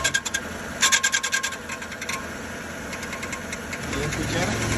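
Strange noise from the starter of a 2002-2014 Chevrolet Silverado engine: a rapid rasping, rattling burst early on, then a steady engine drone that swells louder toward the end.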